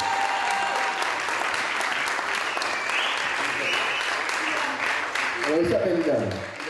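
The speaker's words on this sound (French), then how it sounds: "Je vous demande d'applaudir très fort ce petit garçon là," Loud, sustained applause from an audience at a 2010 slam poetry event in Madagascar, steady dense clapping with cheers, fading slightly near the end as voices emerge.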